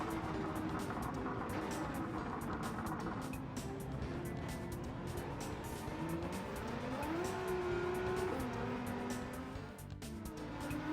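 A Nissan 180SX with an R35 engine swap races around the Nurburgring in Gran Turismo 7, its engine droning steadily with rising and falling pitch as it accelerates and shifts, alongside faint tire noise.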